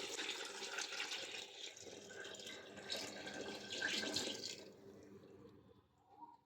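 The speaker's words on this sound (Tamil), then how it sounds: "ஸோ இப்போ வந்து தண்ணியை சேர்த்துக்கலாம்" Water poured into a pot of softened tomatoes while cooking chicken biryani, a steady rushing splash that runs for several seconds and then cuts off, leaving faint kitchen sounds.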